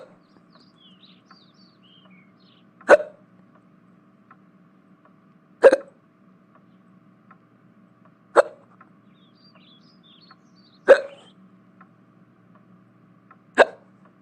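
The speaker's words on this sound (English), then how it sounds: "I got the hiccups." Five sharp, isolated hiccups come at regular intervals of roughly two and a half seconds, loud and close against a quiet background with no talk.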